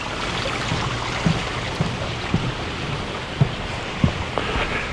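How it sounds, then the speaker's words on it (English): Water from a fountain and a creek runs steadily at an outdoor resort in Pahrump, Nevada, a continuous broadband wash with a few soft splashes or drips breaking through, fairly close and with no voices. "the fountain and the creek."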